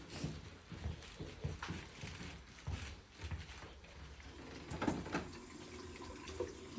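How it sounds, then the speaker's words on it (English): Hands are washed under a running faucet, with a steady close splash of tap water into a sink and shifting rubbing and rinsing sounds, fairly quiet and continuous. "I'm going to go ahead and wash my hands now"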